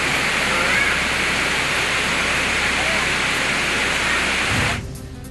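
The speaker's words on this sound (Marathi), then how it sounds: "जिल्ह्यातील प्रसिद्ध मुक्तागिरी येथील धबधबा पूर्ण क्षमतेने प्रवाहित" The Muktagiri waterfall flows at full capacity during heavy monsoon rain, a loud, steady broadband roar of rushing water that holds unbroken before dropping away abruptly at the end.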